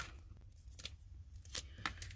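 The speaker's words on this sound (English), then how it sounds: "when you're cutting with your scissors, you're not watching here or here, you're watching out front" Scissors cutting through card for handmade Christmas cards, a few short crisp snips spaced apart over a quiet indoor background, close and fairly soft.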